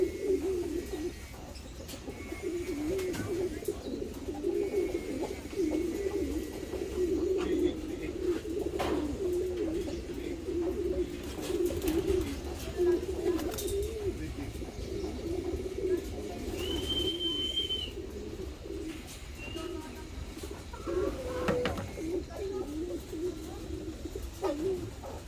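Racing pigeons coo and flutter at the loft as birds arrive, steady cooing close by with occasional chirps.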